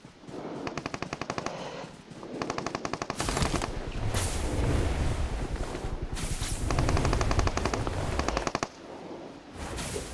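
Rapid automatic gunfire from a battle-royale video game duo match, with loud, close bursts of rattling shots repeating over ten seconds and hardly any pause between them.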